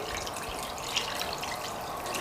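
Water poured into a pot of dolma, a steady, fairly faint splashing trickle of liquid running throughout, with one slightly brighter drip or splash partway through.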